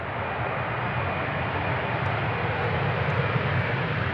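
A Boeing 747 arriving on runway 18R at Amsterdam Schiphol, heard as a steady broadband engine roar that holds at an even, moderate level from a distance.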